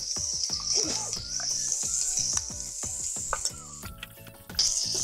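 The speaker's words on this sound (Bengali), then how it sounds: "মশলাগুলোকে ভালো করে কষিয়ে নিতে হবে।" Spice paste of turmeric, ginger paste and cumin paste sautéing in a pan. A bright, steady sizzle runs throughout, punctuated by frequent close clacks and scrapes of a stirring spoon.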